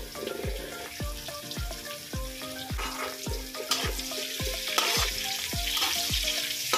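Minced garlic and onion sizzle steadily in hot oil in a pan for pansit canton, with a constant close frying hiss and repeated rhythmic thumps of a spatula stirring against the pan.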